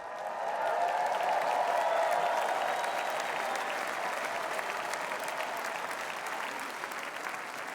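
A big convention crowd at the Republican National Convention bursts into sustained applause, a thick, even wash of clapping that swells early, then holds steady and slowly eases off.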